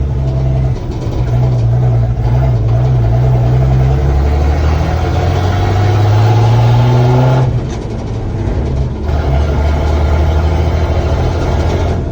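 A 1972 Chevy C10 pickup drives along, its engine droning loud and close, then the revs shift and drop as it changes down from second into first gear, with a brief lull mid-way and no speech.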